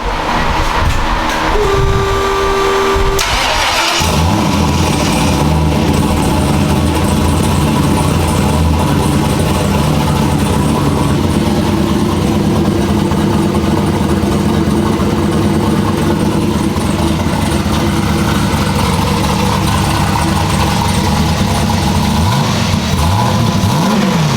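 A turbocharged Cutlass with a 5.3 engine starts to move after a brief opening rattle, then gives a loud, steady drone of driving and revving that continues for the rest of the stretch, heard from close by.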